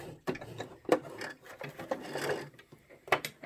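A Brother JX3135F sewing machine runs a stitch along the raw edge of fabric, giving irregular mechanical clatter and ticking bursts with a few sharper clicks, close and moderately loud, with no talking.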